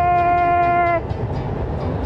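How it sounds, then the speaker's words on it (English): A train at Lake Como, Italy sounds a loud sustained horn chord for about a second, which cuts off and leaves the rumble of the passing train and rolling wheels. "So here's our train."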